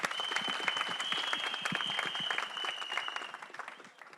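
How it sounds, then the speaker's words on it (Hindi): An audience at the 120 Bahadur teaser launch event with Farhan Akhtar breaks into a dense, sustained round of applause that fades slightly toward the end, with a faint steady tone running through it. "तालियां होनी चाहिए"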